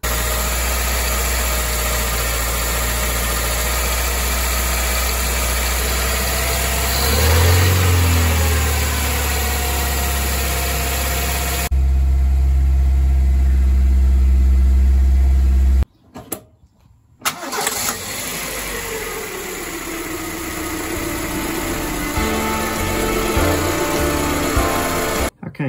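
A Toyota 2E engine with an Aisan carburetor runs steadily at about 2000 RPM, a loud and even mechanical hum that holds for a long stretch, broken by a brief dropout partway through.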